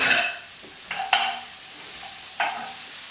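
Prawn and rice noodle stir fry cooking in a pan, a soft steady sizzle broken by several sharp scraping stirs of the utensil against the pan, near and clear with no talking.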